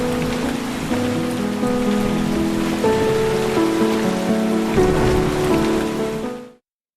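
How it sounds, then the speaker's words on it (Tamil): Heavy rain pours down during a downpour in Tamil Nadu that has swollen rivers, a dense, continuous hiss of drops drumming on surfaces with faint tonal undertones, cutting off abruptly at the end. "பலத்த மழையால் ஆறுகளில் வெள்ளப்பெருக்கு ஏற்பட்டுள்ளது."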